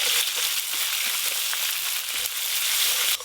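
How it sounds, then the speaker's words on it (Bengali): Chopped onion and ginger-garlic paste fry in oil already used for frying fish, making a continuous close hiss and sizzle with light crackles throughout and no voices. "মাছ ভাজার তেলেই রান্না করে নেব, ফোড়নে আর কিছু দেব না, প্রথমেই পেঁয়াজ কুচি দিয়ে দেব"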